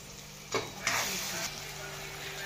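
Poha stirred and fried in a pan, a soft continuous sizzle with a couple of louder scraping stirs near the start, the frying steady and moderately close.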